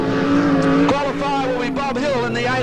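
Speedway race cars roar past the finish line at a night meeting, the engine notes rising and falling as they go by, with a commentator talking over them.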